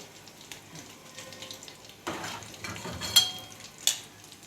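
Shrimp frying in hot oil, a steady soft sizzle with crackling bursts that swell around the middle and again near the end, close and fairly quiet, with no voices.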